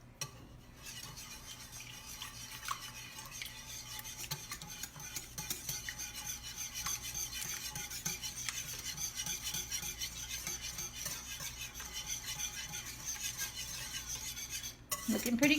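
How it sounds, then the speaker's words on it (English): Milk and other casserole ingredients are whisked in a bowl with a steady, scraping rasp of metal against the dish that runs continuously at close range, ending in a sharper clatter. "So let's get that all whisked together."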